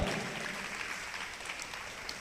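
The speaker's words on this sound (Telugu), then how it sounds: "గట్టిగా చప్పట్లు కొట్టి గట్టిగా కొట్టాల" A church congregation claps loudly during a Telugu worship service, producing dense, steady applause that fills the whole moment without a break and stays close and strong.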